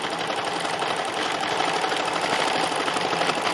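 A sewing machine runs steadily as it stitches through layered fabric, a continuous close whirring hum with a fine rapid needle rhythm and no talking.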